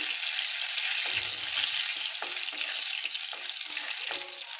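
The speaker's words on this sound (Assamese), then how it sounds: "এতিয়া মোৰ তেলখিনি গৰম হৈ গ'ল। ইয়াতে মই কালজিৰাকেইটা দি দিছোঁ, তেজপাতখিলা দি দিছোঁ আৰু অকণমান লৰাই লৈছোঁ।" Nigella seeds and a bay leaf sizzle steadily in hot oil for an Assamese fish curry, with a few stirring scrapes breaking through the continuous crackle.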